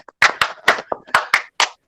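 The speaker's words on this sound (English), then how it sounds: "And we clap like this." Several people clap hands in a loose, slightly uneven rhythm, about seven close, sharp claps over two seconds, with no talk over them.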